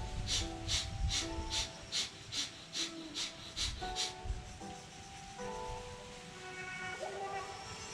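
Rhythmic forceful yoga breathing during a ten-round breath exercise, about eight quick sharp nasal pulses in a steady beat followed by quieter breathing with a faint tonal background.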